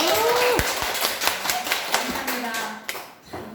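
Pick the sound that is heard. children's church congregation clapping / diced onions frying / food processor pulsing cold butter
children's church congregation clapping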